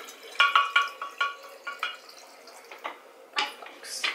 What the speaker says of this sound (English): Go ahead and finish stirring that.